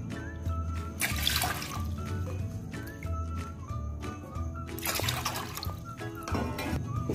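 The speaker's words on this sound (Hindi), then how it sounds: "जिस कप से हमने 3 कप बेसन लिया था उसी कप से 3 कप पानी ले लेंगे।" Water splashes and trickles as three cups are poured into a bowl for khaman batter, with a couple of louder pouring bursts amid faint clinks.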